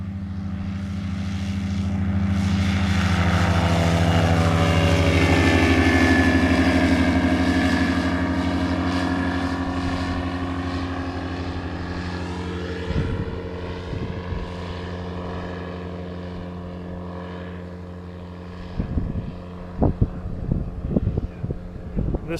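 Single-engine ultralight aircraft flying past outdoors, a steady droning propeller engine that swells as it nears and then fades away, followed by light wind buffeting.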